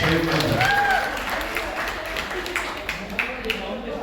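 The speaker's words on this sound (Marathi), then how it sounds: "जोरदार टाळ्या द्या त्यांच्यासाठी." An audience applauds at a family community gathering and haldi-kumkum ceremony, a steady wash of clapping that starts loud and then eases off, with a voice talking over it near the start.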